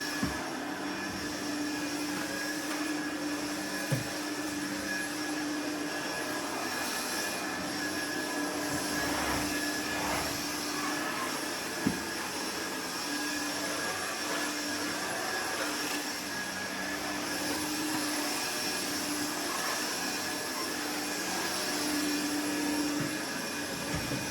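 A household vacuum cleaner drones steadily and close by throughout a home cleaning session, with a continuous whirring hum and a few faint bumps.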